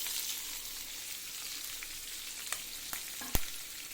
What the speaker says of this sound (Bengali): মাছগুলো তুলে নেওয়ার পর আমি একই তেলে পেঁয়াজ আর কাঁচামরিচ দিয়ে দিচ্ছি